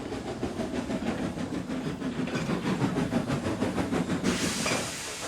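A replacement engine pulling in on the railway, with a continuous hiss and steady rhythmic chuffing pulses, moderately loud and close. The tone shifts brighter shortly before the end.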